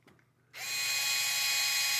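An electric screwdriver drives screws into a Traxxas TRX4M Chevy Cheyenne High Trail Edition RC truck during an Injora upgrade install, starting after a brief quiet moment and holding a loud, steady high-pitched whir close by.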